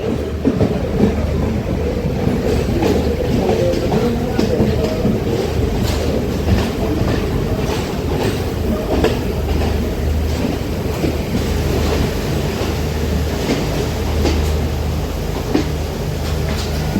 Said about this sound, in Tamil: ட்ரெயின் வந்து வவுனியா ஸ்டேஷனுக்கு வந்துடுது.